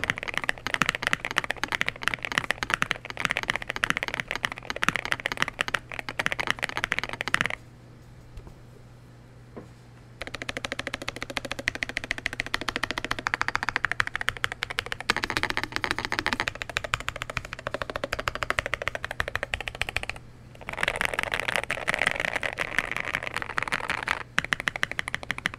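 Rapid typing on a Nuphy Nos75 low-profile mechanical keyboard in top-mount configuration, a steady, close, clacky stream of keystrokes with two brief pauses, no voices.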